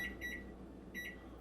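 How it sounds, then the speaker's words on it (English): An oven timer gives short electronic beeps while being set, two quick pairs of tones separated by a pause, faint and close in a home kitchen. "Let's set a timer for like 30 minutes"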